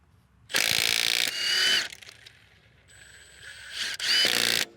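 A Milwaukee M18 FUEL compact impact wrench with a 3/8-inch drive, on power mode 3, hammers in several loud, close bursts of rapid rattling impacts separated by brief pauses and a softer whirring spin.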